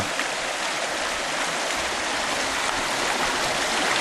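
Water rushes steadily through a drop riffle sluice box set up for gold prospecting, a constant close wash of flowing water with no pauses and no voices.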